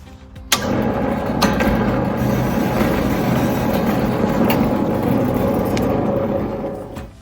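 A STvega apple peeling and coring machine runs with a steady, loud mechanical hum and rattle that starts sharply after half a second and continues evenly, with a few clicks, before easing off at the end.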